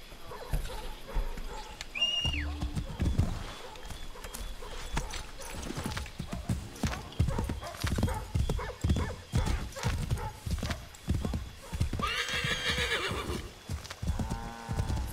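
Horse hooves clip-clopping at a gallop with a loud whinny in Assassin's Creed III, the rhythmic thuds running throughout and the neigh standing out near the end.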